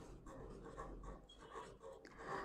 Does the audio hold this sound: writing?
yes